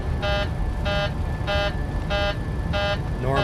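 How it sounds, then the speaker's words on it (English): A takeoff warning buzzer in Microsoft Flight Simulator 2024 sounds in about six evenly spaced, steady electronic beeps over a constant cockpit engine drone. "what's this sound? That's our takeoff"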